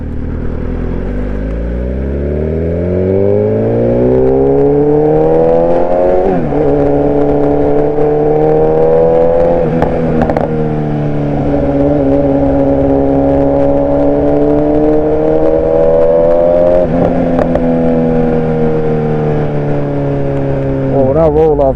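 A BMW car engine accelerates hard at speed, its rising harmonic drone climbing steadily through several gear changes, loud and continuous under a person talking throughout.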